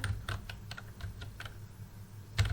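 Keys clatter on a computer keyboard while text is entered into an MS Access table, a steady run of soft close clicks with a brief louder burst near the end.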